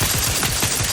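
Automatic gunfire in the video game The Outer Worlds 2, a fast continuous burst of rapid shots lasting under a second, loud and close with no talk.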